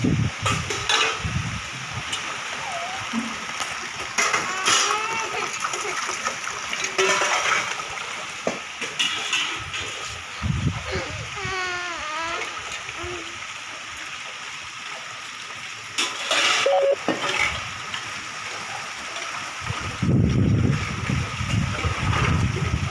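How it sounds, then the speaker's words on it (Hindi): Dishes are washed under running water, with a steady trickle and splash, occasional clinks of utensils and pots, and scattered faint voices in the background. "बर्तनों को धो रहे ना"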